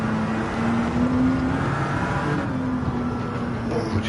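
Sustained engine drone from a Porsche 908 race car during a race, with a steady tone that wavers slightly as it pulls along, loud and continuous with no pauses. No talking.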